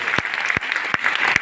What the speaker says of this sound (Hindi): सादर चरण स्पर्श और जोरदार तालियां हम सभी के गुरु माता पिता धर्मशिला मैम और सुरेंद्र सर के लिए,